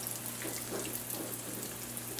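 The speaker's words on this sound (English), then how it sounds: "So just place them in the hot oil and we're gonna allow them to cook and get a nice golden color." Thin saltfish dhal pies shallow fry in hot oil over medium-low heat, giving a soft, steady crackling sizzle with faint pops and a low constant hum underneath, with no talking.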